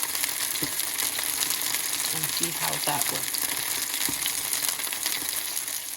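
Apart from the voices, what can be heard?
kubbah being pan fried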